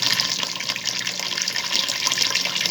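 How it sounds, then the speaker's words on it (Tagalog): Water pours steadily into a cooking pot of rice for a beef stew, a continuous close gushing splash like a running tap, with no talk. "Nilagyan natin ng tubig na kanin ito."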